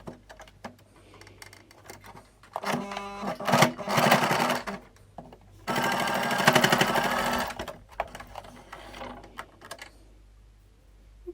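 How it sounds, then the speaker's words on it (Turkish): A sewing machine stitches satin scrunchie fabric in two loud bursts of rapid mechanical whirring, separated by pauses filled with handling clicks and rustles. "İncecik olabildiğince ince olacak şekilde dikiyorum."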